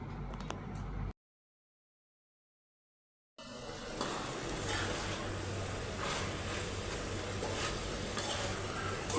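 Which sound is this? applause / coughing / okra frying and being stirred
okra frying and being stirred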